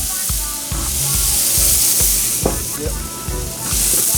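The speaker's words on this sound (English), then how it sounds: "once we get these flank steaks on, to develop that beautiful crust, we're going to be moving this steak around very often" Flank steaks sizzle loudly and steadily on a charcoal grill, with regular scraping thumps as the meat is moved around; a voice speaks briefly.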